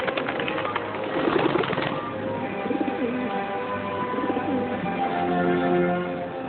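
Soft, low cooing from a dove repeats over a faint background of scattered bird chirps, fairly steady and moderately distant.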